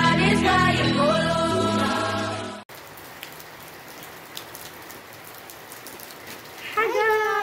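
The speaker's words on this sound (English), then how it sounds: "Guys, it's raining here, cats and dogs." Heavy rain falls outdoors over green farm fields on a cold day, making a steady, dense hiss. A voice speaks briefly at the start and again at the end.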